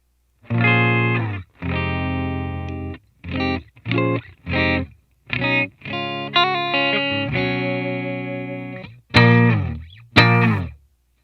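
Clean electric guitar notes and chords ring out through a '69 Dual Reverb amp simulation, played in separate phrases with short pauses, with no distortion or drive.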